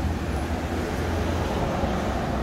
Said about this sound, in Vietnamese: máy nổ nghe tiếng vậy nè